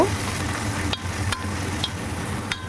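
Dried puti fish sizzling in hot oil, a steady close frying hiss with soft stirring and pressing underneath and a few sharp clicks of a spatula against the pan.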